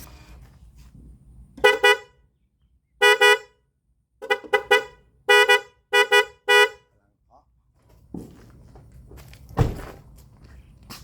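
A truck horn sounds in a string of short, punchy honks, some in quick pairs, then stops. A faint thump and rustling follow.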